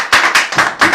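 A church congregation claps together during a thanksgiving service, acclaiming Jesus: four loud, sharp bursts of applause-like clapping in a steady rhythm, each a short cluster of hands striking, close and without talk.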